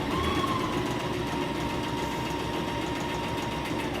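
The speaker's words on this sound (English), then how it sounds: "I'm just gonna understitch my second pocket here" Sewing machine understitching a skirt pocket facing, running in one continuous steady whir with a sustained motor hum, fairly quiet and uninterrupted.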